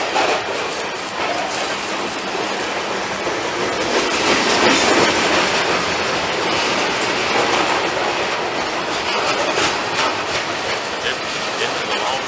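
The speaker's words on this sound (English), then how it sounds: "this is a long train" A long freight train passes close by with continuous rumbling and rhythmic clickety-clack of wheels over rail joints, occasional faint squeals, and a roar that swells in the middle and holds.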